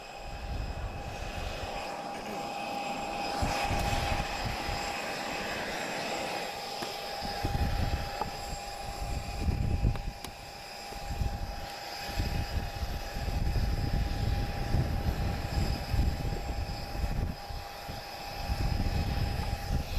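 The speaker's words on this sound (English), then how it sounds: "Spitfire's just on final" Supermarine Spitfire on final approach at an airshow, a moderate, distant piston-engine drone with a steady high whine, rising and falling in uneven low rumbling surges over twenty seconds.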